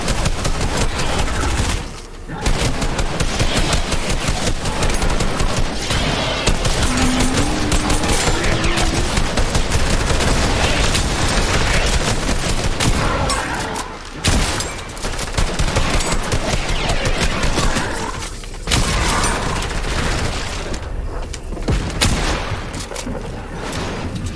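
Gunfire in the video game Fortnite: dense, loud bursts of rapid shots and explosions nearly throughout, with brief gaps, mixed with game effects and no clear talking.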